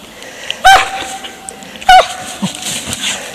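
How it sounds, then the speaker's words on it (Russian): A dog gives two short high whimpering yelps about a second apart on an outdoor fishing trip after heavy rain, with quiet background between them; no digging is evident. "А собачка копается."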